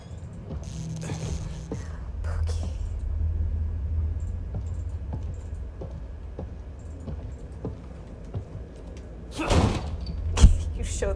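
A door slams inside the survival horror game The Evil Within 2, a heavy impact with a boom near the end, with a smaller knock just before it, over a low rumbling ambient drone and faint game mechanisms.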